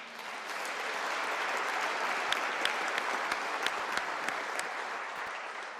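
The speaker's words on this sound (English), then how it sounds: "So round of applause for our guests." Steady, sustained applause fills the West Virginia House of Delegates chamber for honored guests, a dense wash of many hands clapping at an even level for several seconds, with a few sharper claps standing out near the end.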